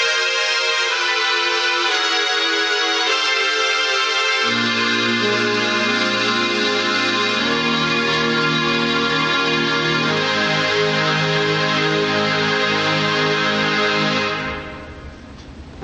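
A synthesized string ensemble from a Roland BK-5 backing keyboard plays sustained chords that swell and shift, with low notes joining partway through before the sound fades out.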